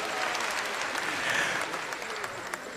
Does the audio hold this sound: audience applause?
yes